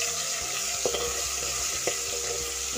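Ginger garlic paste frying with whole spices in hot oil for a baingan aloo mutton salan, giving a steady, close sizzle with a few soft stirring scrapes.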